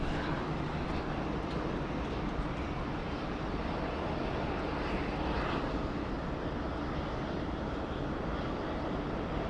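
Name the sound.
Fiji Airways heavy jet taking off, Sydney runway 34 left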